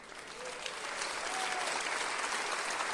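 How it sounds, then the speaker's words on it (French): A church congregation breaks into applause praising the Lord, a dense, sustained clapping from a large crowd that swells slightly and fills the hall throughout, with no words spoken over it. "Acclamons le Seigneur."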